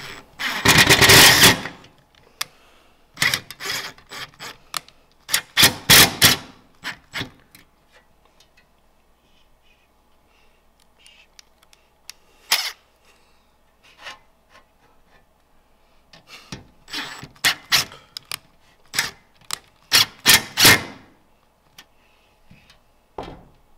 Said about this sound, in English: The screws actually need to be tapped into the holes